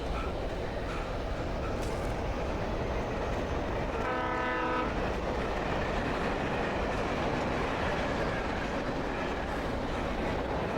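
A train in the video game Alan Wake rumbles past continuously with a heavy, steady roar, and a brief horn blast rises partway through before the rolling noise carries on.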